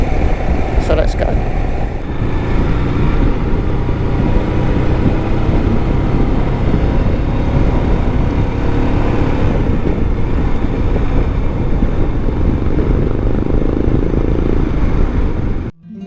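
A Royal Enfield Himalayan motorcycle rides along Spanish roads, its engine a steady loud drone with wind rush throughout, cutting off abruptly at the end; a voice seems to speak over it.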